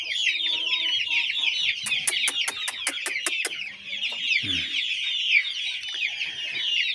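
A rooster clucks close by against a busy backdrop of chirping birds, with a burst of rapid sharp clicks partway through and a low rumble after.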